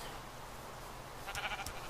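Sheep bleating in the Minecraft video game, two short nasal bleats near the end over a low steady background hum.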